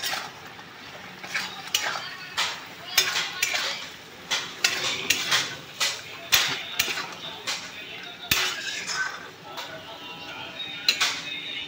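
Spoon scraping and clinking against a pan while stirring a Bengali-style paneer do pyaza with chillies, a repeated rhythmic clatter with a faint sizzle beneath and occasional speech.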